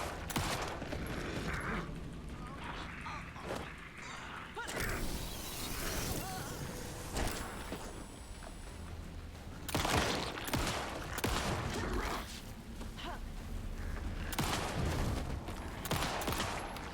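Repeated bursts of gunfire in the horror video game Alan Wake 2, loud shots and rapid volleys cutting through a dense, noisy game soundscape, with no talk over them.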